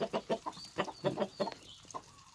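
Chickens clucking close by near a nest holding eggs on a backyard farm, a quick run of soft rhythmic clucks that thin out toward the end, with no talk over them.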